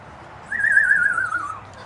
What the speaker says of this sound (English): That was a spooky whistle.